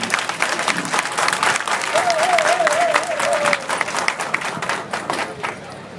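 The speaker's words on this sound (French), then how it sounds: "Applaudissez-vous, mes chers amis." Audience applause at a political party summer university speech event in Benin, a dense, steady round of clapping from a crowd that holds loud for several seconds before easing slightly.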